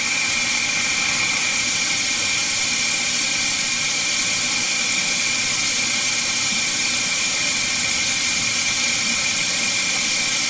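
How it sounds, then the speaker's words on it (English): Propane gas hissing steadily out of a tank valve during a DIY refill, a continuous loud broadband jet of escaping gas with no pauses and no talk. "you're starting to see not just air, but you're seeing the propane shoot now"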